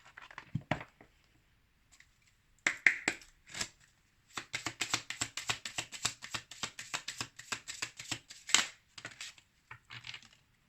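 Oracle cards being shuffled by hand close up, with scattered taps at first and then a long stretch of quick, crisp riffling flicks before a few last soft slaps, quiet and with no talking.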